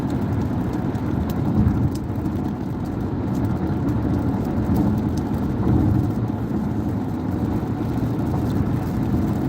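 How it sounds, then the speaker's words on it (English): Continuous rain falling on a moving car mixed with the low rumble of driving, a steady broadband hiss and road drone without talking. "Rain is trying to come down a little bit now."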